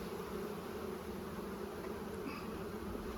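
Honey bees buzz in a dense, continuous hum during a hive inspection, close and steady throughout with no voices.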